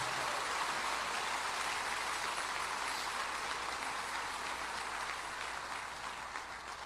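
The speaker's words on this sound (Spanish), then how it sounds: "Ese aplauso de gloria a Dios." A church congregation gives a steady wash of applause in praise of God, a dense, even roar of many hands that holds at a moderate level and dips slightly toward the end.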